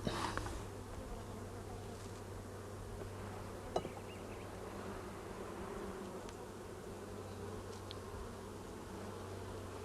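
Honey bees buzz steadily on a hive frame during a hive inspection, a dense close drone with a few faint rustles and no talk.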